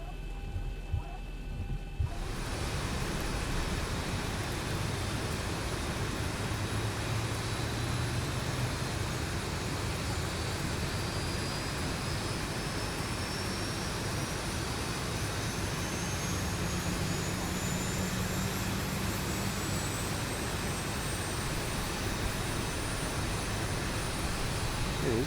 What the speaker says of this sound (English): Okay, so we'll go ahead and start engine number 1.